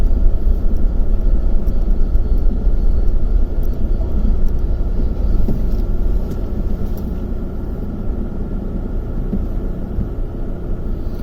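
A bulldozer clears broken rock from a mountain road between Kaza and Kalpa in Spiti, Himachal, heard as a continuous low, heavy rumble without any voices.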